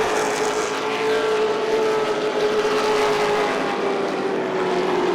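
Late model race cars at Irwindale Speedway roar past in a continuous, loud engine drone with a sustained whining pitch that sags slightly, steady throughout with no pauses.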